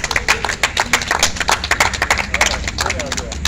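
A crowd at a songo game tournament gives applause for a tournament president, with a dense patter of hand claps running throughout, steady and fairly close.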